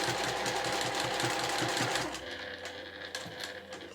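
A sewing machine stitches close along both edges of a small cotton fabric accessory, a steady rapid rhythmic chatter that runs at full speed, then drops to a slower, quieter stitching pace, with no voices.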